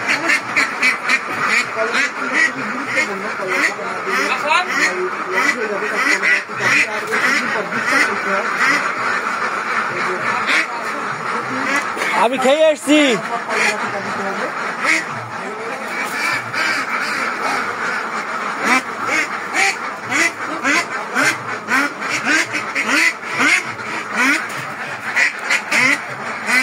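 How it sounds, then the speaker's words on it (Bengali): A flock of ducks quacks constantly on a duck farm, loud and dense throughout, with a person speaking briefly over the din. "এই হচ্ছে হাঁসের খামার, আপনারা দেখতে পাবেন"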